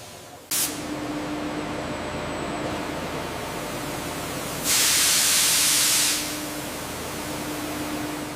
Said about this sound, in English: I'll adjust the steam input.